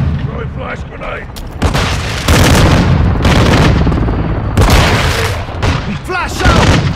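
Repeated loud blasts of gunfire and a flash grenade going off in Call of Duty: Modern Warfare, the bursts crowding over each other for several seconds with some faint voice chatter between them.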